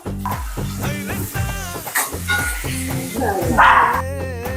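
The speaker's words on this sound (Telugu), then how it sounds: "ఆనియన్స్ కొద్దిగా ఫ్రై అవ్వాలండి, ఫుల్ ఫ్రై అవసరం లేదు." Onions for paneer curry fry in a pan with a steady sizzle and stirring scrapes, masked by a clear voice talking over most of it and a brief dog-like bark.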